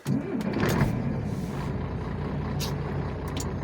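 A MAN truck engine cranking and catching on a farm field, a loud close diesel rumble that swells quickly at the start and then settles into a steady idle, with a brief hiss and light clanks over the top.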